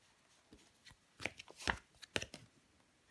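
Tarot cards handled and laid down on a table during a reading: a few soft, close slaps and rustles, with two sharper placements standing out in an otherwise quiet room.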